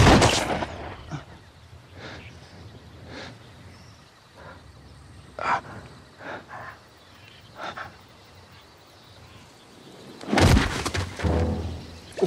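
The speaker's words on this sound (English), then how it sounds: "He wasn't going to shoot me, Eloise." Gunshot in a tense TV drama scene, a sharp loud crack at the start, quieter scattered sounds after it, then another heavy burst near the end.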